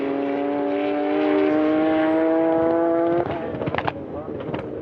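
A World Time Attack race car screams past on track, its engine holding a high, sustained tone that rises, then cuts off abruptly, followed by rough crackles and pops as it fades.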